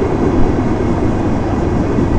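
Sundarban Express train rolling along the tracks near Dhaka, heading into a curve toward the Buriganga rail bridge; a steady, loud, close rumble of wheels and carriage noise runs without pause.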